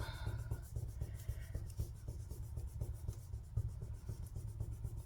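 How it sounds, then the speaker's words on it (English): A glued paper card panel for a 3D box card is folded over and pressed flat, giving soft, steady rubbing and scraping with a low, continuous rumble underneath. "So now I'm going to add glue to these panels and just fold this side over and press"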